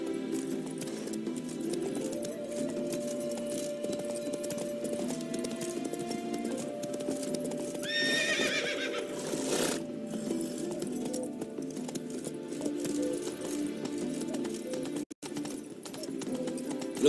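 Roach, a horse in The Witcher 3, trots with steady clip-clopping hooves under a droning game background, and a rising neigh breaks through near the middle before the trotting carries on.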